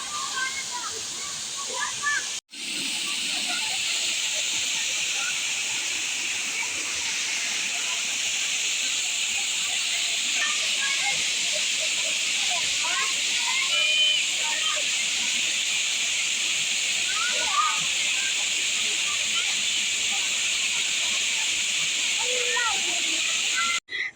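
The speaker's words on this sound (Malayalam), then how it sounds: "അപ്പോൾ ഇതാണ് നമ്മുടെ വെള്ളച്ചാട്ടം, തിരികക്കായം വെള്ളച്ചാട്ടം." Rushing water at Thirikkakayam waterfall forms a steady, loud, hissing roar throughout. Faint voices of visitors and children can be heard beneath the constant flow.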